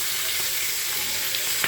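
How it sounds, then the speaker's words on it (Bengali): Rohu fish head frying in hot oil, a steady dense sizzle running throughout with a few brief crackles and pops near the end, close and continuous with no voices. "মাছের মাথাটা আমি একটু তেলের উপরে ভেজে নিচ্ছি"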